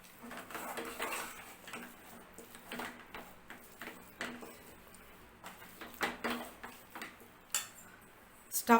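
A spoon mixes aloo paneer samosa stuffing in a bowl, giving soft, irregular clinks and taps that grow slightly sharper toward the end, quiet and close.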